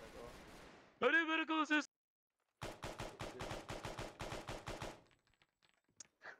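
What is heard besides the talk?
gunfire in a video game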